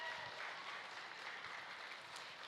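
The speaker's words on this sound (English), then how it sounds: "could we have a round of applause for this group of showmen?" Faint, steady applause from a crowd at a pygmy goat show, honouring a group of young showmen; even, continuous patter of many hands with no voices.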